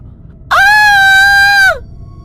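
A woman lets out a single loud, sustained scream as a horror-story sound effect, piercing and steady for just over a second before cutting off.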